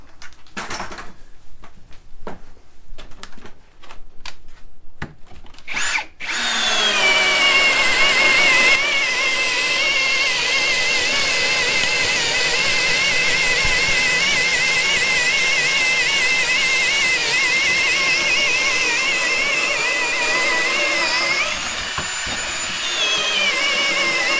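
A few knocks and clatters give way to a drill press that spins up and runs steadily and loudly with a whining motor tone while working ambrosia maple, holding an even drone for most of the span.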